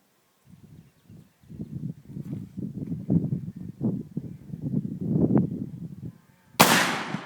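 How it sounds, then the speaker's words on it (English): After a stretch of talking, an English muzzleloading side-by-side shotgun fires its right barrel with a single loud, sharp blast outdoors that rings off briefly. "We're going to fire the right barrel first."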